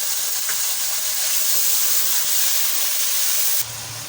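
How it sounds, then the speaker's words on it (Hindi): Garlic ginger paste hits hot oil in a cooking pot for beef haleem, giving a steady, loud broadband sizzle and hiss that holds for several seconds before dropping to a softer fry. "हम इसमें डाल देते हैं 2 टेबल स्पून लहसुन अदरक का पेस्ट"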